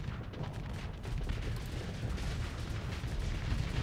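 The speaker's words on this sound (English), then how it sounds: "Come on, missiles!" Missiles firing and exploding in the space combat game Starsector, heard as a dense, continuous roar of rumbling blasts and crackling impacts that stays loud and steady throughout, with no voices.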